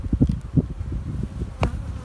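Honeybees buzzing around an open beehive, a dense close swarm hum with individual bees droning past the ear, steady throughout with no talking.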